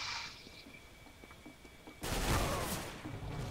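Heavy gunfire blast in the CS:GO video game, a loud burst after two seconds of near quiet, with dense noisy reports that roll on and stay loud to the end; the shot is called a shotgun.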